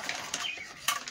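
Newly bought metal kitchen utensils and pots are handled nearby, giving several bright clinks and clatters in quick succession with no voices.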